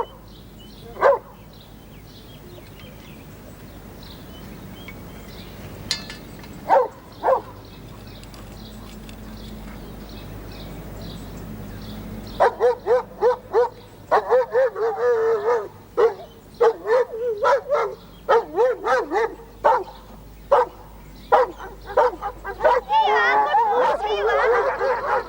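Several puppies bark, yip and whimper in a garden in a rapid, excited burst that grows busier and louder toward the end, with a voice calling to them between the yaps.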